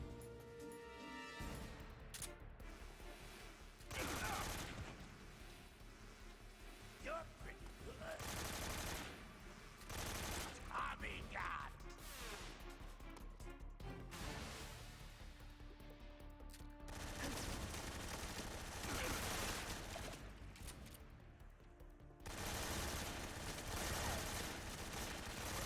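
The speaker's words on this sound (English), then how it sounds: "Right, where's my AK?" AK rifle gunfire in Metal Gear Solid 3 comes as dense, loud bursts of automatic shots that run almost continuously across the clip amid other game noise.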